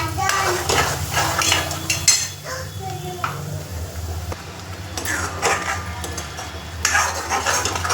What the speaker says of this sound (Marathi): चांगलं मिक्स करून घ्यायचं आणि चांगलं तेल सुटेपर्यंत बारीक गॅस करून चांगलं तळू द्यायचं आहे मसाला